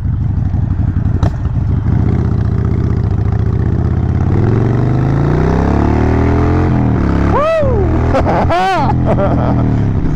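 A Harley-Davidson Sportster motorcycle engine runs steadily while riding, with its rumble rising and falling through gear changes and a few sharp revving sweeps near the end, heard up close alongside someone speaking.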